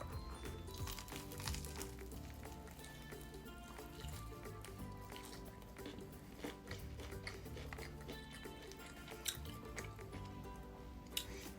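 Close, loud chewing and crunching of KFC's crispy fried chicken with a crab and garlic coating, wet squishy bites and crackly crunches repeating steadily for several seconds with no talk.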